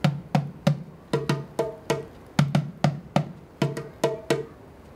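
Small djembe drum struck by hand in a loose rhythm of sharp, close slaps and tones, about a dozen hits with brief gaps between phrases, heard alone.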